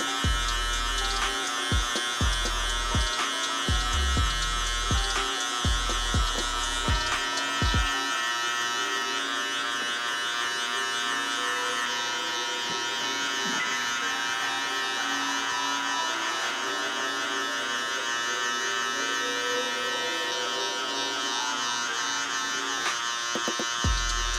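Electric hair clippers with a number 3 guard and the lever fully open buzz steadily and close up while cutting a mid fade, a continuous drone with a few short pauses early on.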